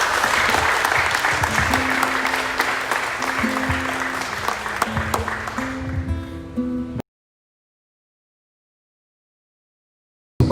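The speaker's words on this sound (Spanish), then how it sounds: "Dele un aplauso al Señor por su vida." A church congregation applauds after a closing prayer, steady loud clapping that runs about seven seconds with sustained organ or keyboard tones beneath, then cuts to silence.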